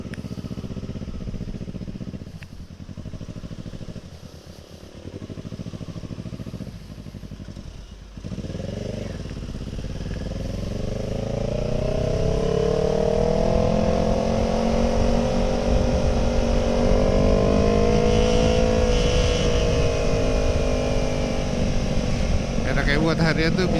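A Kawasaki ER6N motorcycle idles loudly at first, then revs up and holds a rising, steady engine roar for the last dozen or so seconds, close and dominant on an early-morning ride.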